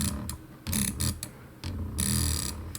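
Bursts of rapid drag-clicking on a computer mouse for Minecraft PVP, a quick rattling run of clicks repeated in several short groups, close and fairly loud, with no one talking.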